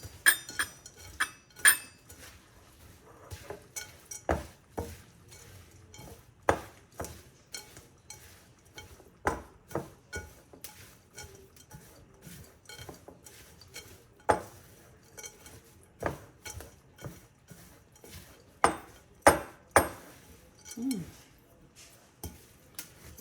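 Granola mixture stirred in a bowl, a steady run of spoon clinks and scrapes against the bowl, close and fairly quiet, repeating every second or so.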